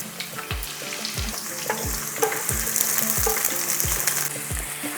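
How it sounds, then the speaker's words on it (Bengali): Chopped onion fries in mustard oil and ghee over a medium flame, giving a steady close sizzle. About seven evenly spaced thuds of a stirring spoon against the pan mark a regular rhythm. "একটু মিডিয়াম ফ্লেমে রেখে এইভাবে নাড়াচাড়া করে ভেজে নিচ্ছি, যাতে রংটা খুব সুন্দর আসে।"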